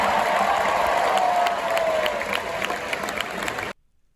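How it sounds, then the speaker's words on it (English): A home crowd in the Green Zone applauds and cheers, a loud, dense roar of clapping with a faint whistle early on, fading slightly before cutting off abruptly near the end. "Give yourselves a round of applause"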